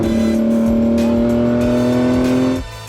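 A Ford GT sports car on a California canyon road lets out a loud, sustained high-revving engine note with sharp upshift breaks, the pitch climbing steadily before the sound drops away abruptly near the end.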